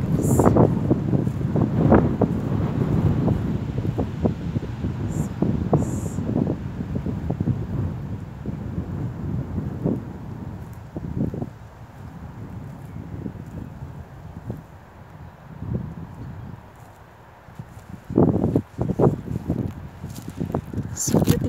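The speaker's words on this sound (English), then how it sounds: "the wind is very strong" Strong wind blowing across an open hillside, a loud, steady rumbling buffet against the microphone with gusting surges and a few brief rustles.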